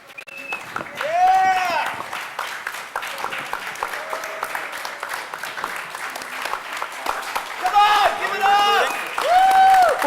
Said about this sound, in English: we don't really need to clap.